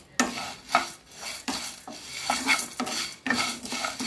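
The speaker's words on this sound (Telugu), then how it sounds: "ఇవంతా మంచిగా ఫ్రై చేసుకోవాలి." Coriander seeds, garlic cloves and tamarind fried in a pan for bitter gourd powder, stirred with a metal spoon in steady scraping strokes about every half second, close and clear with a faint sizzle underneath and no talking.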